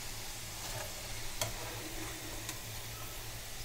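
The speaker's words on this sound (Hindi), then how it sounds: "इस तरह से डबल आप फ्रेंच फ्राइज जब फ्राई करोगे तब क्रिस्पी बहुत अच्छे हो जाएंगे" French fries deep-frying in hot oil give a soft, continuous bubbling sizzle with occasional faint ticks and pops, fairly quiet and alone.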